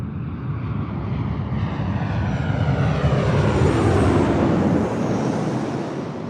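An Alaska Airlines airliner passes at LAX, a broad, steady roar that swells toward the middle as the aircraft goes by, then eases slightly, with a faint rising whine and a sweeping tonal shift, heard alone with no voices.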